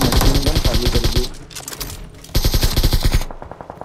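Machine gun fire in the video game PUBG/BGMI comes in two loud, rapid bursts of automatic shots separated by a short pause, close and harsh.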